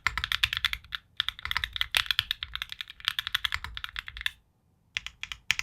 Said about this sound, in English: It's such a premium feeling keyboard.